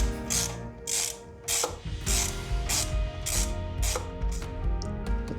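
A ratchet tightens the bolt on an aftermarket NICECNC adjustable side stand fitted to a BMW R1300 GS motorcycle, clicking in loud, close bursts of rapid pawl ticks with short pauses between strokes, with no voices.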